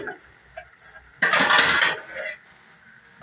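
A metal lid settles onto a pot of paksiw with a bright, ringing clatter and scrape lasting under a second, followed by a short softer clink, close by in a quiet kitchen.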